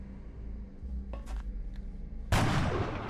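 Gunfire in XCOM Long War, heard as a few quieter clicks and clacks followed by one loud, close, sustained blast near the end.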